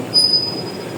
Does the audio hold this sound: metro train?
yes